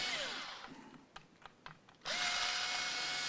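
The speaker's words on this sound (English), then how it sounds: "So out come the tuner screws." A power drill backs the tuner screws out of a Rocker brand offset guitar, whirring loud and close in a short burst, then a few clicks and taps before the motor spins up again and runs steadily.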